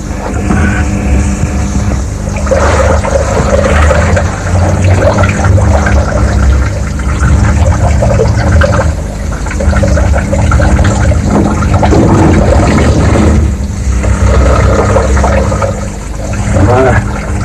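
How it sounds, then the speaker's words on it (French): Water washes over a lithography stone in a continuous rushing, splashing stream that swells and eases, loud and close, with a voice speaking over it. "Je lave la pierre."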